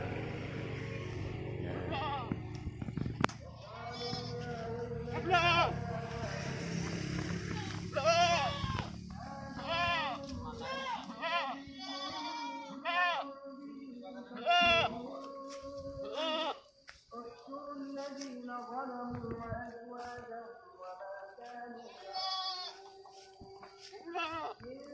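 Young goats bleat repeatedly, close and loud, in short wavering cries that overlap one another, while someone talks beneath them and a low rumble fills the first several seconds.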